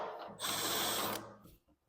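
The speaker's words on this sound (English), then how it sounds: "I've just got a countersink bit in the drill, and I'm just going to whiz over them all" A power drill fitted with a countersink bit whirs in a short, steady burst while deburring drilled holes in metal strips, loud and close, then spins down.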